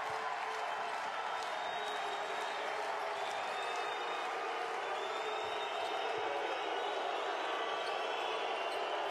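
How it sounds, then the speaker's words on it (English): Loud, sustained crowd roar in a basketball arena during a France versus Russia FIBA World Cup qualifier, a steady wall of cheering with faint bouncing and sneaker noise beneath it. "Oh, it's the loudest we've seen the crowd tonight."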